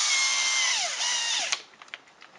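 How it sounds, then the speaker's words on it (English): Power drill spinning the screw jack of a Beck cider press, a loud steady whine with pitch sweeps as the load changes, running for about a second and a half before cutting off, followed by a few faint knocks. "it's a lot easier to use my drill bit attached to the end of the jack."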